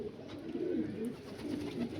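A few restless pigeons coo softly and faintly close by, with low, repeated murmuring calls over a quiet background.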